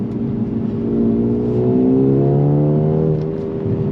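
A Mercedes-Benz CLA 35 AMG's turbocharged engine pulls hard through the revs, its rising whine and growl close and loud, with a brief dip around a gear change before climbing again.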